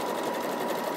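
An Elna sewing machine stitches continuously in a steady, even mechanical whir, close and alone, with no pause across the short burst.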